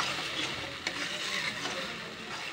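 Suran (elephant foot yam) and peas stirred in a pan over low heat, a continuous soft sizzle with scraping spoon strokes and one brief knock, close by with no talk.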